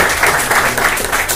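A classroom group claps together for a student in a steady, dense burst of applause, close and loud throughout with no talk over it.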